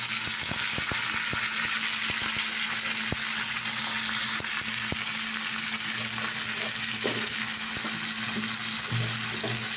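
Potatoes sizzle steadily in hot oil in a pan with chopped onion, a dense continuous frying hiss running throughout with occasional light clicks and stirring knocks, no talking.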